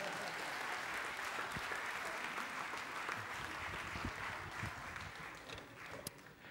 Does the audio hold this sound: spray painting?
no